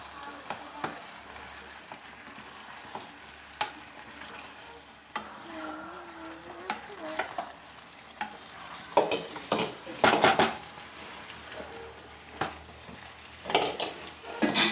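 Fried catfish mixed into a chilli masala in a pan for a Tulu-style fish chilli, gentle sizzling beneath irregular spoon scrapes and metallic knocks against the pan, with a faint voice now and then.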